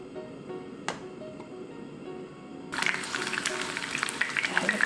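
Garlic hits hot cooking oil in a pan for braised tofu, a steady sizzle that swells louder and denser partway through, with faint kitchen clatter beneath.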